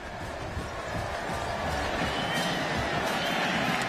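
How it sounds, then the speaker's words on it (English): Virginia Tech Hokie fans in the NCAA 2007 football video game applaud a touchdown during the ACC Championship against BC, a dense, steady stadium crowd roar and clapping that swells slightly and holds throughout. "That's why you hear the applause from the Hokie fans in the background."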